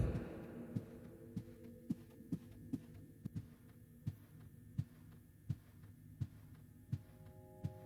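A slow, steady heartbeat thumps in regular pulses over a low droning hum in the video game Unseen Liminality beta, with no voices.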